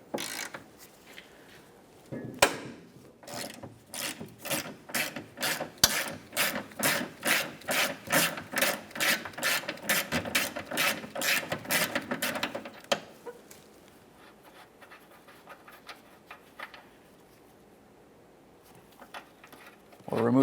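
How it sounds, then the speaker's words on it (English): Wrench working a 17mm mounting nut on the rear subframe of a 1994-1997 Honda Accord, a fast run of about twenty even ratcheting clicks that then stops, leaving a quiet stretch; no talking. "On the rear side of the subframe, we have a 17mm mounting nut. Use our wrench for this."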